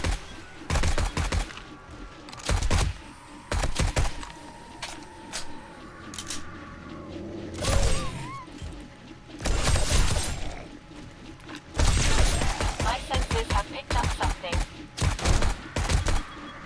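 An automated gun turret in 7 Days to Die shoots at buzzards, letting off loud, sharp bursts of rapid fire spread across the scene, with quieter gaps and mechanical clatter between volleys.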